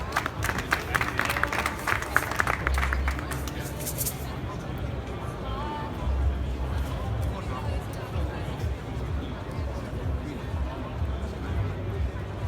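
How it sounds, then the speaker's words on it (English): An audience at a Prolight+Sound 2017 trade-show stand claps for about four seconds. The applause then gives way to crowd chatter and background hubbub. "Warm applause and a warm welcome for Mrs. KIDDO KAT."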